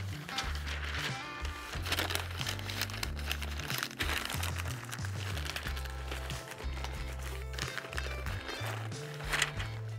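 A smoked Texas-style brisket is wrapped in butcher paper, and the stiff paper crinkles and rustles steadily throughout. Low rhythmic music plays underneath.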